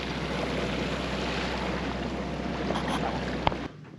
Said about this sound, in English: It's blowing like crazy out there, and it blew like crazy last night.